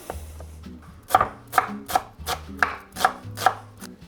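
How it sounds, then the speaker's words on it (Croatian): Knife chopping a small onion into fine cubes on a board, about eight sharp, evenly spaced cuts ringing out clearly over a faint background hum. "I evo ako gledaš ovo moje sjeckanje"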